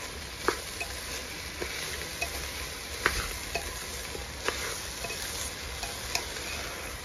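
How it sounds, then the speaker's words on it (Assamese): Rice with cashews and raisins sizzles softly in a pan while a spoon stirs it, scraping with small clicks and taps at an irregular pace, close up and with no talk. "এতিয়া দি দিম মই ইয়াতে এই চাউলকেইটা লগতে দি দিছোঁ এয়া কাজু আৰু খিচমিচ কেইটাও"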